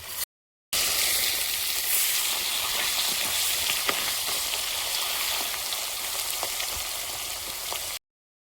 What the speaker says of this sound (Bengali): লবণ হলুদ মিশিয়ে মাছগুলো ভেজে নেব